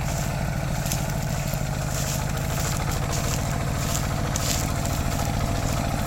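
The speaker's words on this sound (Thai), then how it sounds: "ตอนนี้กำลังทดสอบการใช้งานของรถไถนะคะ" An RT110 tractor engine runs steadily and loudly during a three-disc plough test in hard soil in Khon Kaen, Thailand, a constant low throbbing drone with no talk over it.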